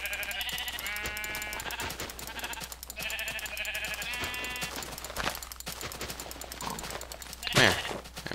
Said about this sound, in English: There's a couple sheep.